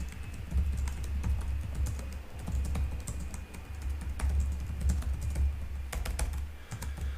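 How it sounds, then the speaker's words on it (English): Computer keyboard typing heard as a steady run of close, quick key clicks with small pauses, over a low background hum, no voices. "So I'm just going to simply start typing some relevant words and terminology for what I want to rank."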